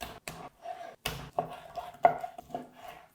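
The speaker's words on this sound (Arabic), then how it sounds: "هلا بنقطع كيلو من صدور الدجاج لشرائح، نقسمها بالنص" A knife cuts through chicken breasts on a board as they are sliced into strips, giving a run of sharp, close, irregular chops with short gaps between them.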